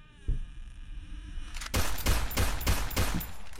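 Video game gunfire plays from a device in a home, a brief thud followed by a rapid burst of repeated shots, fairly faint with a background hiss.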